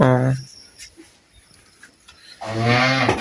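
A cow moos loudly twice, one long harmonic call at the start and another near the end, close by on a farm with a calf present and quiet rustling in between.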